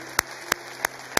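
Four sharp handclaps at a steady, even pace during a church worship service, crisp and close against a quiet background with no talking.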